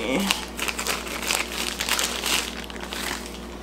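Paper packaging crinkles and rustles steadily at close range while a Sony ZV-1 camera is unboxed, with a continuous dense crackle and a soft hum beneath.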